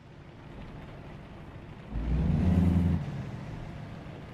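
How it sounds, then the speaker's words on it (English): Truck engine idling in American Truck Simulator, with a louder hissing air brake release swelling for about a second midway, then the steady engine rumble carrying on. "Truck noises, trailer noises."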